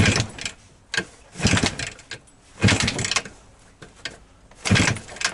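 Cold start attempts on a Voskhod 3M motorcycle engine with the choke on: several separate bursts of cranking and brief sputtering catches, each dying away between tries.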